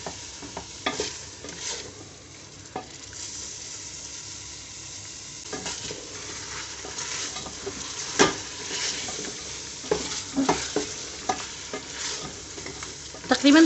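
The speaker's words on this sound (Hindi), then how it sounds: "मसाला डालने के बाद भी मैं इसे 2 से 3 मिनट भून लूँगी ताकि मसालों का कच्चापन निकल जाए।" Spices frying in a pot for nihari crackle and sizzle under repeated stirring, with scraping strokes and sharp spoon knocks that grow busier toward the end. No one speaks.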